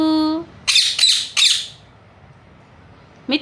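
A mynah bird mimicking speech squawks three harsh, speech-like calls in quick succession after a brief steady tone, then falls quiet before one more short call.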